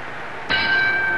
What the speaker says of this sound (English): Courageously, DeMarco answers the bell for the 15th round.